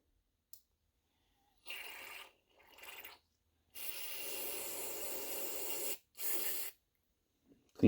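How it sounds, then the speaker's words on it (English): Carburetor cleaner sprays into a lawnmower carburetor in four hissing aerosol bursts, one longer than the others, separated by silent gaps and heard quietly at close range. "you're spraying out every orifice in the carburetor"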